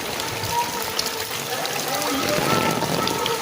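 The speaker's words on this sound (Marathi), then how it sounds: "पाऊस लय पडतोय, पावसातून गणपती आणायला जायला लागते" Heavy monsoon rain pours down in a village during a trip to bring home a Ganesh idol, a dense, steady hiss of downpour filling the whole moment.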